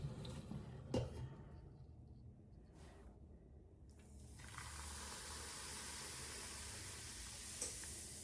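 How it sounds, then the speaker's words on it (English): Boiling water pours onto baking soda in a small bowl with a soft splash, then a steady bright fizzing hiss builds and continues, close and fairly quiet. "So I poured the hot water on the baking soda."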